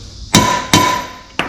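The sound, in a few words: hammering a wheel bearing in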